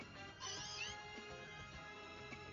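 Meowth, the Scratch Cat Pokémon, crying in the video game Pokémon Legends Z-A: a couple of short, close, stylised meows over game music, with no talking.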